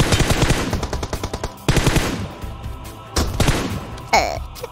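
Automatic gunfire from a Metro escape shooter video game: rapid close bursts of shots in several volleys separated by short pauses, with a ringing metallic clink near the end.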